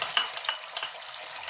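An egg frying in oil in a pan over low gas, a soft continuous sizzle broken by a few quick spatula or utensil taps.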